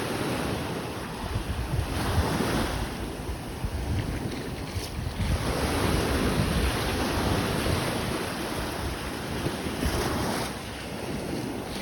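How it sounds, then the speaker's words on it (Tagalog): Waves wash over a beach on an island in a steady roar of surf that swells and eases, with gusting wind buffeting the microphone and no voices. "Sobrang ganda ng beach oh, yan, napakalinis."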